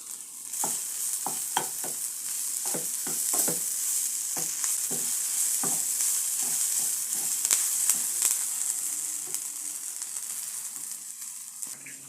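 Okra thoran (vendakka thoran) sizzles steadily in a pan while a spoon scrapes and stirs it in repeated clicking strokes, close and fairly loud, with no talking.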